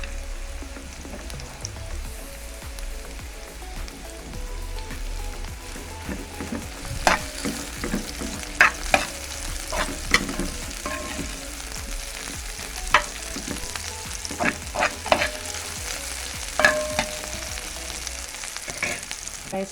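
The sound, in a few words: onion frying with pimento seeds for Jamaican escovitch fish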